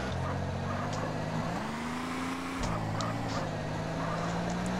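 A slow vehicle driving in GTA San Andreas, its engine holding a steady low drone that rises slightly in pitch partway through, then drops and settles again, continuous and fairly loud throughout.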